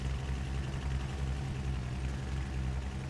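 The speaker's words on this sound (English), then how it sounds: "We're driving today in the truck." A truck engine idles in the off-road driving game Spintires, a steady low-pitched rumble holding at an even, moderate level throughout with no voices.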